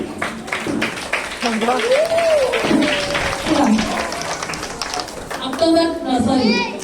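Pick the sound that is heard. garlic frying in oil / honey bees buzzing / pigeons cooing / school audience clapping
school audience clapping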